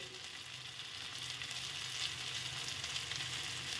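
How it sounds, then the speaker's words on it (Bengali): A mashed mixture seasoned with chopped green chili and salt sizzles and fries steadily in a pan, a continuous close crackle with no talking. "আমি এটাকে ভালো করে ভেজে নেব, সুন্দর করে এর সাথে ভেজে নেব।"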